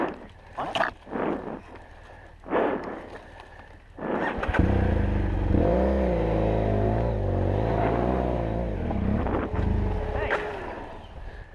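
Motorcycle engine churning through a muddy hole on a fall trail ride, starting after a few bursts of voices and then running loud with a wavering, labouring pitch and wind noise.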